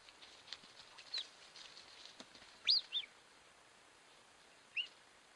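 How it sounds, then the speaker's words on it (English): A female cougar and two subadult males call to one another in the wild with faint, high, bird-like chirps and whistles, a few short calls scattered over quiet background. "this is a female lion, and then her two subadult males coming in, and they're talking to each other"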